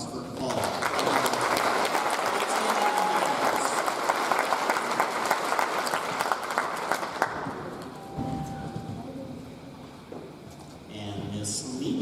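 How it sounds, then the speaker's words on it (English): A crowd claps for a student named Paul at an 8th grade graduation, dense and steady for about seven seconds, then thinning to sparse claps and room noise. "If we could have a round of applause for Paul."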